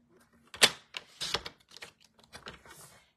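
Scissors cut a strip of patterned paper at a crafting table in a few sharp, close snips and crisp rustles. The bursts are short and separated by silence.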